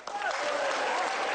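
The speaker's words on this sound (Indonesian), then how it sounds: "Tepuk tangan untuk semuanya." Studio audience applauding on an Indonesian television talk show, a short burst of steady clapping with a voice or cheer rising over it.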